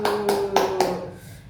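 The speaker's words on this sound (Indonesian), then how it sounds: "Oke, tepuk tangan dulu semuanya ibu-ibu." A small group of women at a training session clapping in unison, four quick close claps in a steady rhythm that fade out, with a brief tone underneath.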